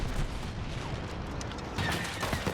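Laser cannons on a fighter ship firing in the Star Wars Battlefront video game: a dense, continuous barrage of blasts with a slight surge in intensity toward the end.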